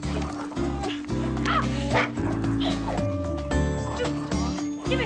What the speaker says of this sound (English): Stupid dog. Give me that!